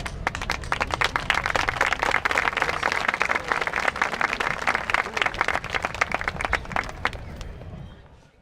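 An audience at an outdoor peace day ceremony gives a round of applause, dense rapid clapping that holds steady for several seconds before tapering off.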